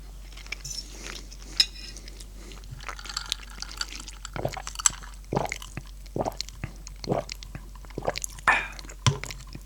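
Close, quiet chewing of flaky smoked salmon, a series of moist bites and soft mouth sounds at irregular intervals, with faint wet clicks between them.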